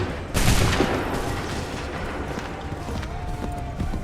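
Musket volleys crack out in the Assassin's Creed III video game, a dense roaring burst of massed gunfire followed by ragged scattered shots and rumbling battlefield noise, loud and close.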